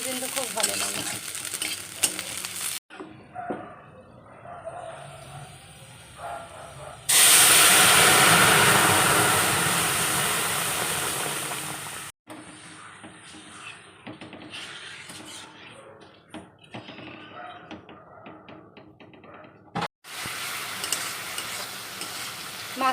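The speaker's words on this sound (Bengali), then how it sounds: "আজকে ডালে পেঁয়াজ ফোড়ন দিলাম, পেঁয়াজ আর শুকনো লঙ্কা।" A tempering of onion and dried red chillies hits hot lentil dal and bursts into a loud, hissing sizzle that slowly fades. Quieter stirring and frying come before it and return after, close to the pan.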